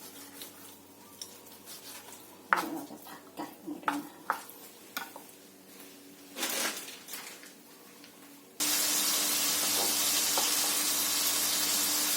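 Quiet kitchen clatter and a few sharp knocks, then a sudden loud, steady sizzle as sausage and chicken hit hot oil in a pan and keep frying.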